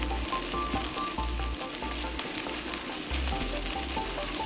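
Korean style fried rice with egg sizzling hard in a hot pan while being mixed, a loud steady crackle broken by repeated scraping stirs in an uneven rhythm, close and with no voices.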